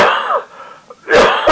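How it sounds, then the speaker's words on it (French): A person coughs hard twice, loud and close, with a short gap and a faint throat sound between the bursts and no talking. "j'arrête pas de tousser"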